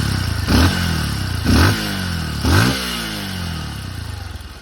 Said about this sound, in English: Turning the key on. You can see I'm not touching it. Starts up good, idles good.